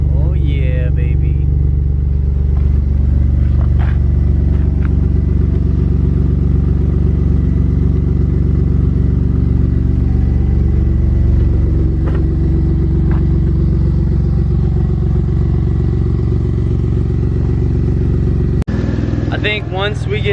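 A car fitted with a new Endless RPM exhaust idles close by, a loud steady low rumble that holds throughout with a brief shift near the end.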